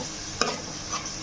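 Masala paste with turmeric and rock salt being stirred in a pan for a phool makhana tomato curry: a soft sizzle with one sharp scrape of the spoon, then a lighter second stroke.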